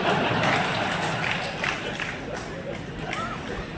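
An audience at a Marathi political speech by an MLA claps in a dense, steady wash of applause with crowd murmur, loud at first and easing slightly over a few seconds.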